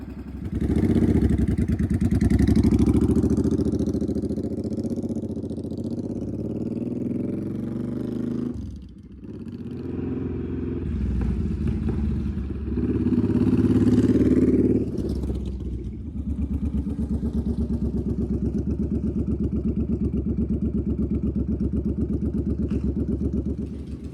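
A Suzuki Boulevard C50 motorcycle engine idles steadily after a fuel pump repair, a loud, continuous mid-pitched rumble with a brief dip partway through and no talking.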